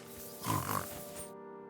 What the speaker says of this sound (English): I found a stray pig.